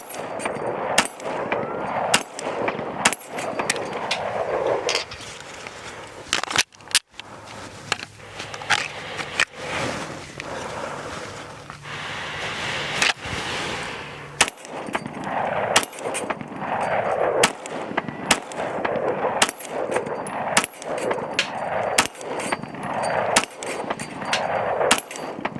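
An Archon Firearms Type-B pistol is fired round after round, sharp loud reports spaced at an irregular rhythm with short pauses between groups of shots, ringing against a noisy outdoor background.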